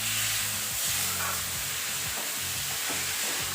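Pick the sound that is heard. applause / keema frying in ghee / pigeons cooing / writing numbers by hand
keema frying in ghee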